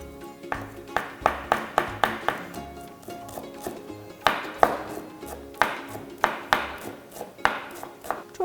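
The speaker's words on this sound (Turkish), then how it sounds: "Sıramızı doğrayacağız." A knife chops chard leaves on a cutting board in quick bursts of sharp taps, pausing between runs, close and fairly quiet.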